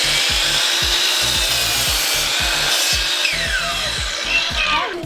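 A saw blade cuts through wood for a mobile chicken coop, a loud close rhythmic rasp of repeated strokes that runs steadily throughout, with no voices.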